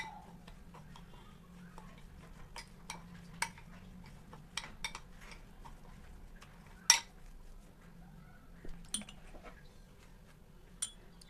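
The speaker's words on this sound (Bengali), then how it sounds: "দইটাকে আমি সুজির সঙ্গে একটু মিশিয়ে নেবো।" A spoon stirs yogurt into semolina in a bowl for crispy suji pakora, making faint, irregular clinks and ticks against the dish over a quiet background with no talking.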